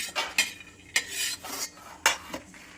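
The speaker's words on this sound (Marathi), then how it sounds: "आता असे ना लाल शेंगदाणे भाजून घ्यायचे." Red peanuts dry-roasting in a pan on the stove, stirred with a metal utensil that gives repeated sharp scraping and clinking strokes in an uneven rhythm, close and clear without talk.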